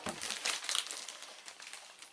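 Packing paper crumpling while a craft haul is unboxed, a close, soft crinkling that rustles in quick bursts and then fades.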